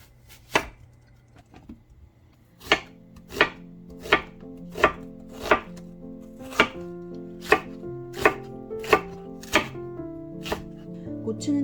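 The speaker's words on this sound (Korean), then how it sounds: "이제 아구찜에 들어갈 채소 썰어줄게요." Knife chopping vegetables for Korean braised monkfish on a board in a steady rhythm, about a dozen sharp thuds spaced evenly, close by, with faint background tones.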